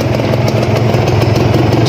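A Kawasaki Ninja RR motorcycle engine idles steadily at close range, a continuous low, even rumble with no talk over it.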